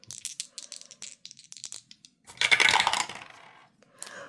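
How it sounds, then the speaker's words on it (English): Two dice are rolled onto a hard surface, giving a scatter of small clicks and rattles, then a louder clattering tumble and a final tap, close and distinct with no talk. "we're gonna roll 2 dice"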